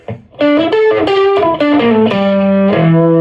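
A heavily distorted electric guitar plays a short melodic run of sustained, gritty notes, loud and close, ending on a held low note.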